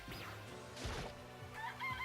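Clucking from a fat chicken in the video game Danganronpa, a few short squawking calls over game music at low level, with no one speaking.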